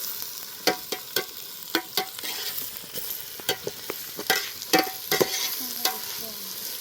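Biryani masala fries in a pan while a spoon stirs it, giving sharp, irregular scraping clacks over a continuous soft sizzle, close by and without any talking.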